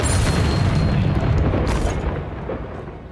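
Incendio fire spell cast in the Hogwarts Legacy video game, a loud whooshing fiery boom that roars steadily, then gradually fades.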